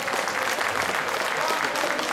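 Audience applause at a bodybuilding competition during a women's Miss Figure posing round: dense, steady clapping from a crowd that fills the whole stretch without a break.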